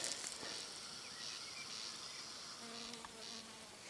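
A bee buzzes while gathering nectar from a catchfly flower in a meadow, a steady, close insect drone running throughout with faint birdsong in the background.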